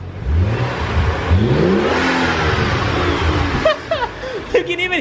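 A BMW 135i engine with a new aftermarket intake revs hard and loud, rising and falling with throaty surges and pops, while people talk over it toward the end.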